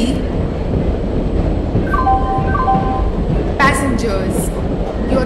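An express train pulling into a platform in Indian Train Simulator 2020, steady rumbling wheels on rails with a couple of short melodic chime or horn tones partway through and a bright blast near the end, loud and close.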